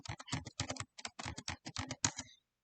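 Quick typing on a computer keyboard close by, a brisk burst of clicking keystrokes in short clusters that stops abruptly, with no voices.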